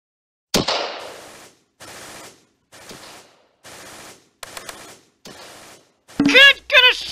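Gunfire from the Close Combat video game: one sharp shot opens, followed by a string of short noisy bursts at steady intervals, with a shouted voice breaking in near the end.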